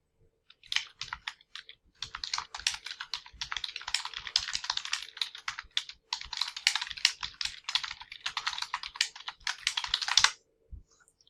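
Fast typing on a computer keyboard, with dense bursts of close, crisp key clicks and a few short pauses, ending in a final keystroke.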